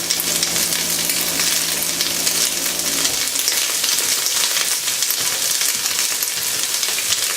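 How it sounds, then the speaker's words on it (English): Curry powder hits onions frying in a pan, giving a steady, loud sizzle that shifts and quiets a little partway through as the spice goes in. "Now I'm going to go ahead and add the curry powder."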